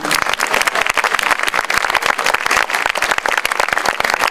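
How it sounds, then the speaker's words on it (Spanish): A crowd at a panel inauguration in Lima gives loud, vigorous applause for the mayor of Miraflores, with crisp overlapping claps throughout. "Aplauso para el señor alcalde."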